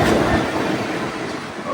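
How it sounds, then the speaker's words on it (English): A Class 66 freight train passes through Barking station on platforms 7 and 8, a steady close rumble with faint rhythmic wheel clatter filling the whole stretch, with no voices over it. "what you're about to watch is more freight trains coming through Barking's platform 7 and 8"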